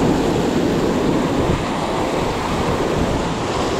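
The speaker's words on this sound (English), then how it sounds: "It's pretty bad the wind." Strong wind buffets the microphone beside the sea at Umkomaas, with steady rushing surf and gusts filling the clip loudly and continuously, no talk.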